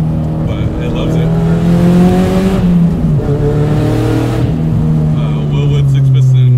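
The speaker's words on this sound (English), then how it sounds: "It's external wastegate, so it gets extremely loud" Turbocharged MazdaSpeed 3 with an external wastegate and a 7,300 RPM redline, revving loudly nearby, with the engine note rising and falling through repeated pulls. Voices are heard over the engine.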